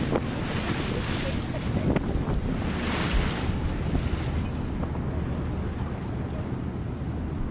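Wind and ocean waves buffet a trawler at sea in a loud, continuous roaring wash with gusty swells and wind noise rushing over the microphone throughout.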